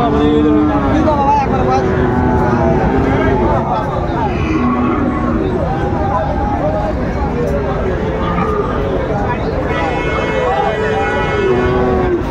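Cross-breed bull calves at a busy rural cattle market in Raniganj bellow and low now and then over a loud crowd, with people talking and traders' chatter filling the space throughout.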